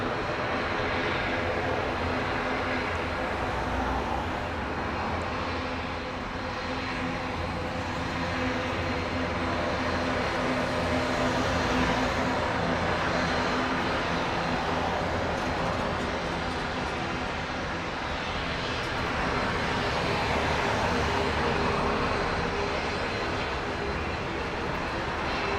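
A U.S. Navy plane's engines roar at an airport on Grand Cayman, heard as a steady, broad, moderately distant drone that holds for the whole stretch with slight swells in loudness.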